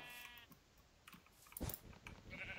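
A brown sheep in a video game gives a faint, brief bleat near the start, followed by soft scattered clicks and taps.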